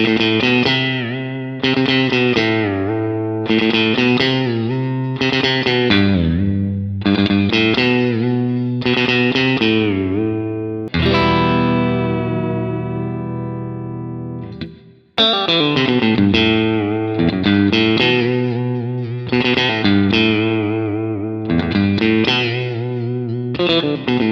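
Distorted electric guitar chords repeatedly dip down in pitch with the whammy bar and spring back, a rhythmic wobbling pattern with a sustained bent chord midway, loud and close.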